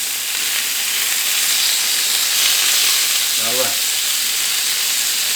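Beef pieces searing in a stew pot, a loud continuous sizzle and hiss filling the whole stretch, with someone briefly speaking over it near the end.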